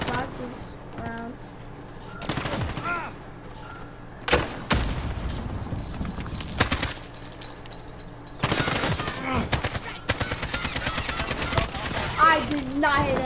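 Rapid bursts of gunfire in the video game Modern Warfare, loud and close, in repeated volleys with heavier booms, while a person talks over parts of it.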